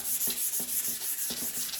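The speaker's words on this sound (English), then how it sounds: "you just want to do a light sanding in between those layers with something like a 320, a 380." Light hand sanding between finish layers on furniture with 320 grit sandpaper, steady close back-and-forth rubbing strokes in an even rhythm, with no other sounds.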